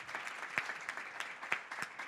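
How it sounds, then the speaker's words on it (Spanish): An audience applauds Susana at a panel on Latin American healthcare reform, steady, soft, scattered clapping from a modest crowd, heard from a little distance. "Un aplauso para Susana."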